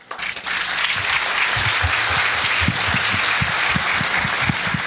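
A church congregation breaks into dense, sustained applause, loud and steady throughout, with some rhythmic clapping standing out near the front.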